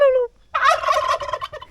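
Turkeys gobble close by on a farm: one bird gives a brief rising call, then after a short pause a loud burst of rapid rattling gobbles follows and fades.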